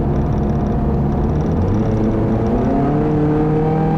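A 2011 Scion tC engine accelerating on a test drive, heard from inside the car as a loud, steady drone whose pitch climbs smoothly as revs rise, with no talk.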